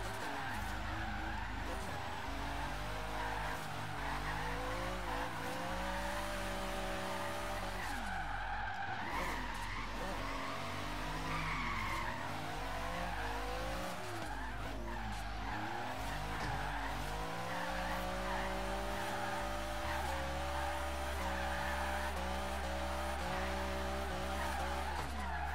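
A Lexus SC300 drift build slides through long drifts in Forza Horizon 3 at night, its tires squealing continuously over a droning, revving engine, loud and sustained with brief shifts in pitch.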